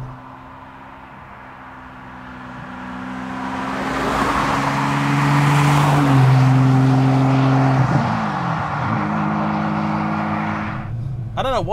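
The manual V12 engine of a 1996 Ferrari 456 GT drones smoothly, then swells as it revs up through a gear and settles, with steady harmonic tones and a shift near the end.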